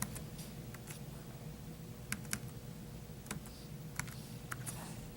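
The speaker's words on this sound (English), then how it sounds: "So I've got to type in these numbers on the keyboard." Numbers for Bluetooth pairing typed on a MiniSuit BluBoard wireless keyboard case: sparse, light key clicks at irregular intervals over a quiet, steady background hum.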